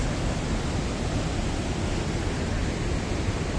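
Lower falls at Greeter Falls in Tennessee, a loud, dense, unbroken roar of water heard from close by, with no voices over it.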